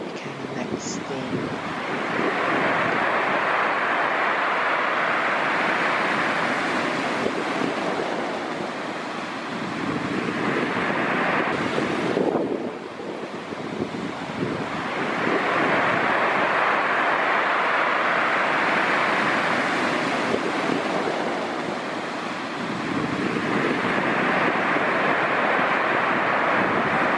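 Waves crashing on the coast during a storm, probably around Porlock Weir or Sidmouth, with loud surging breakers rolling in every ten seconds or so under heavy wind buffeting, and no voices.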